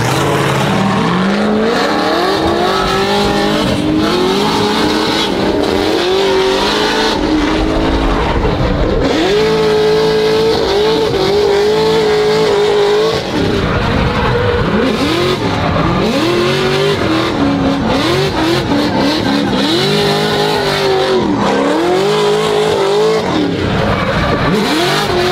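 A drift car rips through a corner at speed, its engine revving hard and fluctuating continuously while tires squeal and skid, loud and close throughout with no talk.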